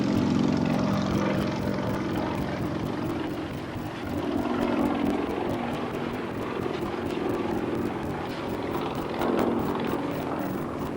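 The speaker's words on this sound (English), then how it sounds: "as is its baby brother, the Su-26, being flown today by former world aerobatic champion Frenchman Xavier de Lapperance." A modified Sukhoi Su-26 aerobatic plane with a supercharged engine flies at the Farnborough International airshow. Its loud, steady propeller drone rises and falls slightly in waves throughout.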